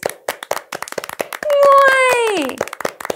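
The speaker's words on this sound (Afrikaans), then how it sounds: "Klap, handjies." A child's hands clap in a quick, steady series of sharp claps, with a drawn-out sung voice rising and falling over the middle of the run.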